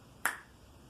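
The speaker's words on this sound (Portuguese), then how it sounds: "no estalar de dedos" A single crisp finger snap, sharp and close, stands alone against a quiet background.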